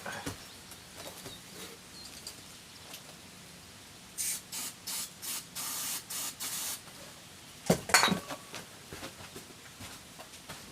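Carburettor cleaner is sprayed into a Citroën 2CV engine in a run of about six short, sharp hissing bursts, followed by a brief louder spurt, close up and with no talking.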